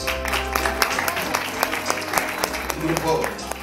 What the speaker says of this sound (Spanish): Un aplauso también para los chicanos.